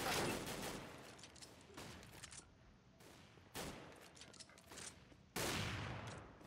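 Gunfire in the video game CS:GO comes in several loud, sharp bursts separated by short pauses, with rapid shots crackling in each volley.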